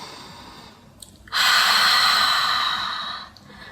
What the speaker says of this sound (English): you're already practicing an advanced breath in yoga that's called Ujjayi breath